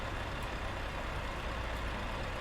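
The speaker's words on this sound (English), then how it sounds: "Because the trucks are so loud on the outside view, but so quiet on the inside." A truck engine in Euro Truck Simulator 2 multiplayer, a steady, dense, loud rumble heard from outside the vehicle, with no variation and no talk.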